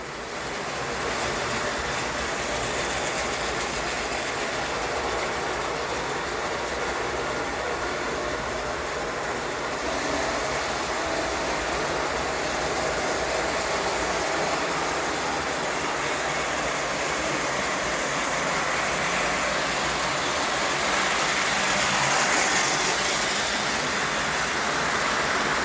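A JAD Lines Hiawatha model train engine pulls a long freight train with a continuous close rumble and rolling rattle that holds steady throughout with no pauses.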